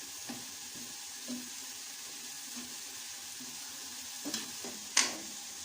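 Onion frying in a pan until it turns light brown. A quiet, steady sizzle is heard close by, with occasional soft stirring scrapes and a sharper clink near the end.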